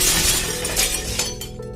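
Window glass in a house shatters all at once in a loud, sharp burst, with a dense spray of breaking shards that gradually thins into scattered tinkling.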